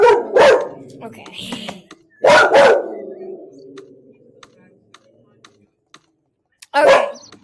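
A dog barks in short bursts across several seconds, close by, with someone speaking briefly between the barks and soft clicking underneath.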